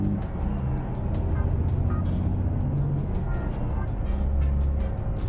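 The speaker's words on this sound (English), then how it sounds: "so I sort of let off the brakes a bit" Truck air brakes hiss and release in American Truck Simulator, with a continuous low engine rumble throughout and faint high tonal whines above, steady and close.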